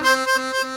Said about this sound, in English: a split shake, which is a side-to-side motion with the tongue, which sounds like this when played clean